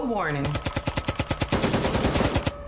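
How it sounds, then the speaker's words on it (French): A rapid burst of automatic gunfire, about a dozen sharp loud shots in quick rhythmic succession, followed by a few scattered cracks. "Tout à coup, on a entendu des coups de feu."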